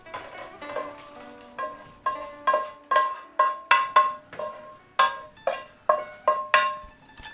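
A spoon stirs seafood into lobster chowder with carrots and potatoes in a pot, giving a quick, steady run of clinks and scrapes against the metal, close and clear, with no voices.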